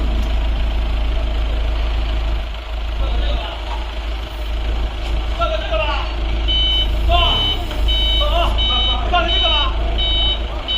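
A vehicle loading a generator into a shipping container idles with a steady engine rumble, and a repeated, evenly spaced reversing beep sounds clearly over it in the second half.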